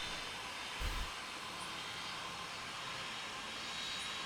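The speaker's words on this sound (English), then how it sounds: "you can hear him speeding up his engines and moving quicker" Airliner engines in the Tower Simulator 3 airport game spool up for takeoff, a steady broadband jet roar that holds evenly throughout with a brief low thump near the start.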